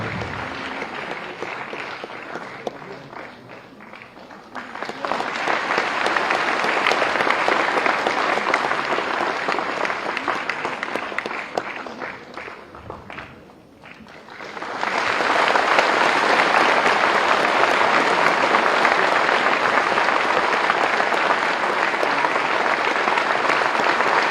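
Sustained loud audience applause fills an auditorium at the inauguration of the General Bipin Rawat hall at Sainik School, Gorakhpur, easing briefly midway before swelling back even stronger and continuing to the end.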